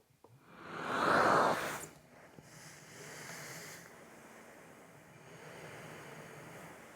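A ResVent iBreeze CPAP machine blows air at 10 cm of water pressure: a soft, close hiss opens with one strong breathy surge, then settles into a quieter rush that varies slightly.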